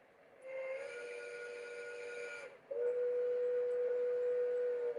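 A steady, high model-train steam-whistle tone sounds in two long blasts, the second louder, with a faint hiss behind it.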